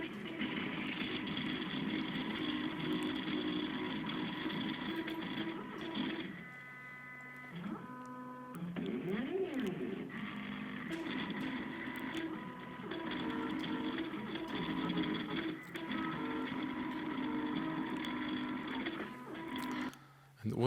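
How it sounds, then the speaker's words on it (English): A homemade printer built on an Arduino platform runs steadily, its motors giving a continuous mechanical whine with shifting tonal steps and brief pitch sweeps midway, close and fairly loud, while someone talks over it. "this first printer that he made using Arduino platform"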